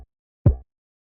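A single pitched-down kick drum sample, shaped with a transient shaper for a sharp attack and shortened sustain, hits once alone as a short, deep, punchy thump after a brief lead-in of silence.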